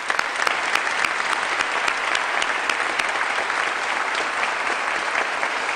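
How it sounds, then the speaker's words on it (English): Sustained audience applause at a legislative opening-day session, dense steady clapping from a large crowd filling the room with a few sharper individual claps standing out throughout. "let's give a round for them and wish them all the best"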